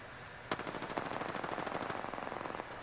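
Rapid automatic gunfire rattles in steady bursts during a fight in Apex Legends, fairly faint and distant-sounding, with no talk over it.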